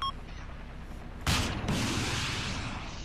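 Gunfire in the Arma 2 video game, with a sudden loud burst of shots erupting over a constant rumbling background and a second burst following shortly after.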